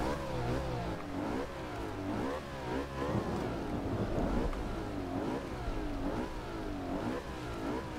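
A McLaren MP4-12C V8 revs repeatedly in Forza Horizon 2, its pitch sweeping up and down in rhythmic pulls, loud and close, with faint turbocharger noise underneath.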